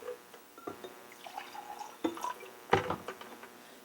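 Water poured into a container for a classroom molecules activity, with uneven splashes, drips and clinks of glass, a couple of louder pours near the middle and end, fairly close.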